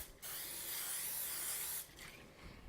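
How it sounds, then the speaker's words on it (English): Oil spray hisses onto a baking pan for gluten-free baguettes in one steady, close burst of about a second and a half, followed by quieter handling noise. "Now we are going to use an oil spray"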